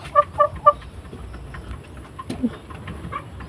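A sick, feverish chicken that cannot stand gives three short, soft clucks close by, then goes quiet apart from a faint murmur and one more weak cluck.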